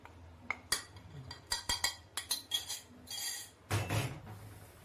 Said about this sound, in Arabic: نقلب الخليط كويس، والدقيق من فوق لتحت كده